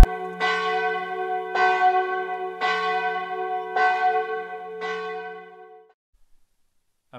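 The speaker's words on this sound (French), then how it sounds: "les cloches de Souligné-sous-Ballon sonnent pour célébrer Pâques" Church bells of Souligné-sous-Ballon ring for Easter with five loud, resonant strokes about a second apart, each leaving a rich humming ring that fades out after the last stroke, then silence.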